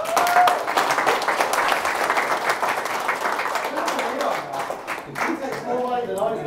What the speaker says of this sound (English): I'm sure we can give them a little clap for that